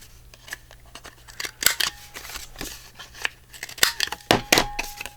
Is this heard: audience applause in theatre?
no